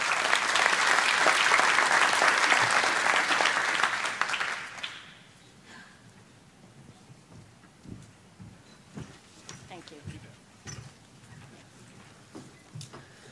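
An audience at a Digital New England welcome session applauds to greet a speaker. The clapping is loud and sustained for several seconds, then fades into quiet room noise with scattered small knocks.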